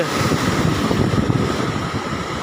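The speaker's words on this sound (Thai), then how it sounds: "น้ำได้ซัดแบบเต็มเหนียวเลยครับ เต็มเหนียวแรงแรงแรง" Strong monsoon waves surging against an island shore, a loud, continuous roar of churning water with heavy wind buffeting the microphone, no voices.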